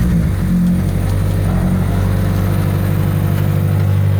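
A turbocharged Scion FR-S idles and rumbles steadily as it creeps out of a garage, a low engine drone holding close and loud with slight rises in pitch, no talking.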